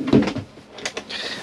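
A cutlery drawer in an Auto Trail Imala 734 motorhome slides and shuts with a short, close knock, followed by lighter rattling and a brief sliding sound.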